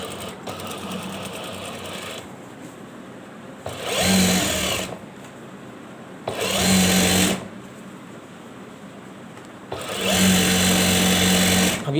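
Electric sewing machine running a seam along a folded shirt sleeve cuff, loud and close in three separate bursts of a few seconds each, with quieter motor hum and handling between runs.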